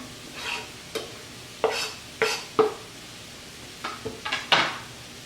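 A utensil scrapes and clinks as fresh basil is stirred into ground beef in a pan, with a series of close, separate strokes over a faint sizzle and no talk.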